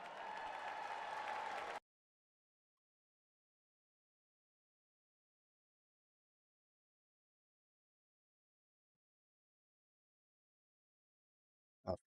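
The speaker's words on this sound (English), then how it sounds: "A round of applause for these cute dogs," An audience applauds a pair of cute dogs, a dense burst of clapping lasting about two seconds before cutting to silence, with a single faint click near the end.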